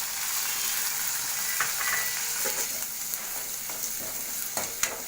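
Onions sautéing with cumin in a pan for keerai kuzhambu, a steady close sizzle and hiss with occasional soft stirring scrapes, no talking.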